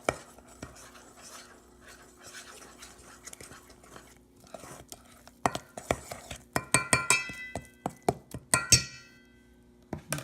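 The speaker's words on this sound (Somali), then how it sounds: "qaacad isku walaaqid" A utensil stirs pancake batter in a bowl, starting with quiet soft scraping and then turning into a run of sharper clinks and taps against the bowl, close and intimate.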